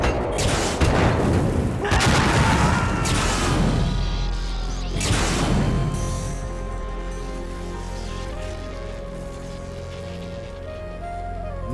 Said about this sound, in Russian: Отлично, у него рейлган.